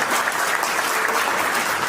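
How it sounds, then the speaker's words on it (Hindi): Applause from an audience at an Indian poetry recital in New York, a steady, dense wash of clapping that fills the whole stretch without any voices. "मुझे एक बार ताली बजा करके आप मौका दें"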